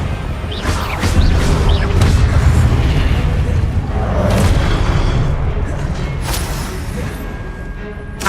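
Confringo blast spells explode in Hogwarts Legacy, a rapid series of heavy booms and crackling bursts. They come one after another over a dense, rumbling bed of game action, with a voice speaking briefly among them.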